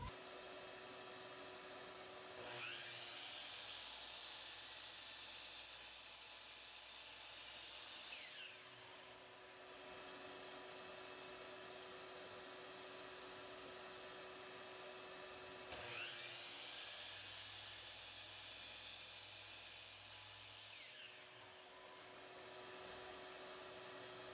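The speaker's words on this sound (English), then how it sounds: "get the vac going again, and we'll finish our cuts" A shop vacuum hums steadily as dust collection for a 12-inch DeWalt miter saw, while the saw spins up twice for cuts, each a rising whine lasting several seconds over the constant vacuum drone.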